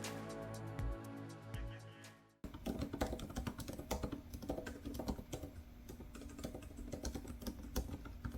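Steady, fast typing on a computer keyboard while writing a novel, dense close clicks with a clear tonal musical passage in the first couple of seconds before the keystrokes take over.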